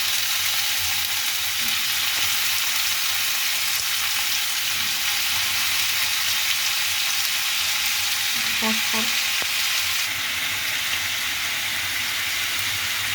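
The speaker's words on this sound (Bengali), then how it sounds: "আলুগুলো ভাজতে বসিয়ে দিয়েছি" Potatoes fry in a pan with a loud, continuous hiss and sizzle close up, steady throughout with a few faint clinks partway through.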